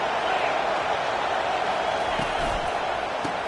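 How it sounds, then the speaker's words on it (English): A football stadium crowd roars with a dense, steady wall of noise that barely shifts in level, with a commentator's voice mixed faintly into the din. "It is getting loud as this crowd tries to help its defense."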